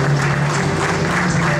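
Guests clap together at a baptism party in Ossining, New York, a steady, dense applause lasting the whole moment over a low background tone, with no clear talking.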